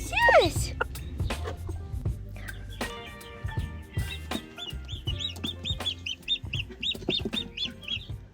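Chickens cluck and call close by in a busy farmyard, with a rooster-like squawk at the start and a run of rapid clucks later, a voice speaking intermittently.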